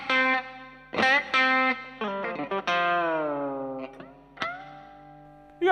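Distorted electric guitar plays a solo phrase with tremolo-bar bends, sustained notes bending downward, heavy effects, loud and alone.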